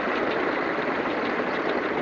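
International A 554 tractor at a parade, its engine idling in a steady, continuous rumble, fairly loud and close, with no talk over it.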